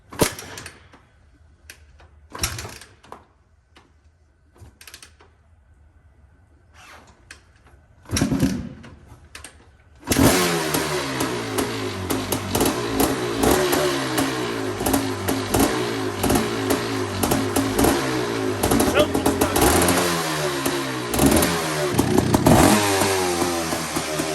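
A 1987 Suzuki LT500 quad that has been sitting is kicked over with a few sharp knocks and sputters, then catches and runs loudly with a rough, rapid two-stroke rattle and uneven revving close by.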